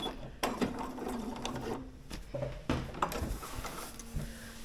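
A sewing machine stitches a welt pocket on a 1950s vintage-style coat, running close up in short bursts of rapid stitching broken by brief pauses, with no voices.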